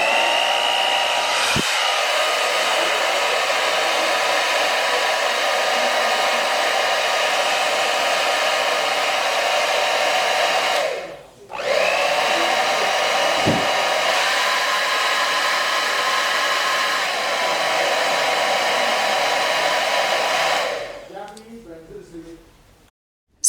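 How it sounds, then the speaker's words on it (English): A small Irresistible Me Black Diamond blow dryer runs steadily with a loud, broadband whooshing airflow, cutting out briefly near the middle and switching off toward the end, with no talk over it. "we did a little blow test on how strong the air is coming out from this tiny blow dryer"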